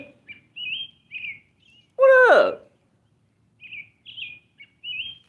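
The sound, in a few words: loud bird calling outdoors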